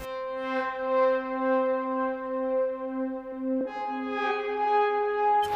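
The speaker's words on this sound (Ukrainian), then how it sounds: "Наш наступний інструмент це такий, я б його назвав Ambience" Sustained ambient synth pad with lush reverb, holding a steady tone before shifting to a new chord partway through, smooth and alone with no talk.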